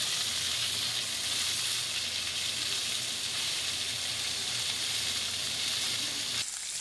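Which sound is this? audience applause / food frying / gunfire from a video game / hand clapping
food frying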